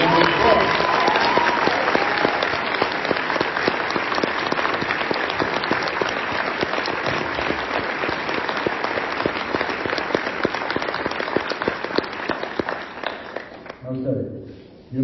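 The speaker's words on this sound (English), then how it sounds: "let us all thank you now with a round of applause" Sustained applause from a panel audience at a theme park industry expo, loud and steady for about thirteen seconds before tapering off abruptly into quiet.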